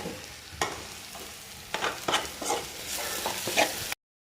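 Onion, ginger and green chilli sauté in a pan for beef perettu, giving a continuous soft sizzle broken by several stirring scrapes and clinks. The sound cuts off abruptly near the end, and no one speaks.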